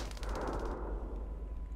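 A grenade blast in the tactical game This is the Police 2, a loud burst of gunfire-like crackle and boom that fills the first part, then decays into a rumbling tail.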